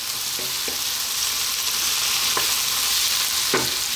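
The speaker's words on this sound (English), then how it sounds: "What we're going to do now is drop in those peppers" Peppers land in a hot frying pan for a vegan sun-dried tomato pasta sauce, with a steady close sizzle and a few soft thuds and stirring taps, no voices.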